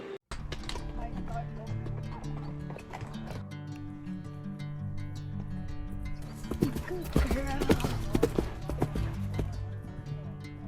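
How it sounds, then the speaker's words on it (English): A horse dressed up as a unicorn walks past a resort campsite in the Dinokeng area, its hooves clip-clopping at a quiet distance under people talking. "the horse dressed up as a unicorn coming here as we left"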